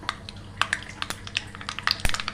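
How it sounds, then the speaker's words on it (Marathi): Mustard seeds and cumin hit hot oil for a tempering, giving a close, busy run of sharp crackles and pops scattered irregularly over a couple of seconds. "तेल तापलेलं आहे तर याच्यात मोहरी मोहरी जिरे मोहऱ्याचीच फोडणी द्यायची आहे"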